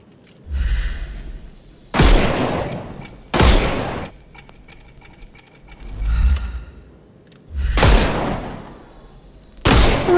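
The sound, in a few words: gunfire shooting off enemies' armour in Sherlock Holmes Chapter One video game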